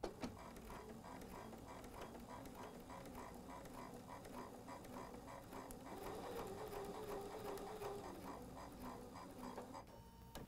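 A sewing machine stitches a fabric pillow block right along a marked line, running in one steady, fast mechanical chatter for the whole stretch with a slight rise in speed partway through, close and unbroken.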